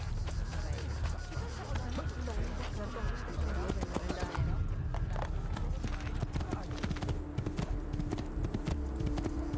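A horse galloping in Assassin's Creed 2, with rapid, steady hoofbeats up close over a murmur of background crowd noise.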